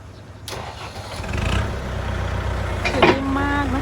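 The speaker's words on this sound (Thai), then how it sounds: "เดี๋ยวเรามาฟังเสียงเครื่องกันเลย" A used car in nearly new condition, its protective film still on, starts up about half a second in and settles into a steady, moderately loud idle, with a brief voice near the end.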